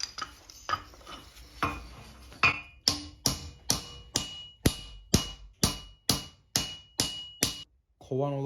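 Steel from a dozer track being hammered into an elliptical shape while making a tomahawk battle axe: about fifteen sharp metallic blows in a steady rhythm, close and loud, ringing briefly after each strike.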